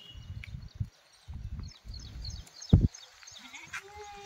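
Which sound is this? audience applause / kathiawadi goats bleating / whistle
kathiawadi goats bleating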